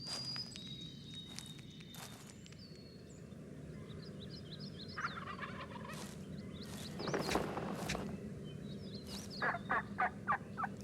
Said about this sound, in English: Some, like the wild turkey, have a decidedly romantic idea about tail plumage.